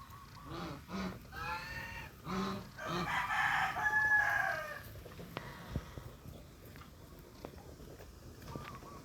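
Turkey chicks peep and chirp in bursts, with a louder warbling call in the middle, then scattered faint cheeps over quiet outdoor background.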